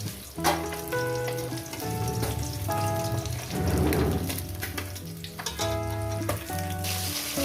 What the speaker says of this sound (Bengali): মাছগুলো আমি সুন্দর করে ভেজে নিয়েছি